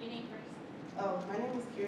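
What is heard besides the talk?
No everyday noises stand out.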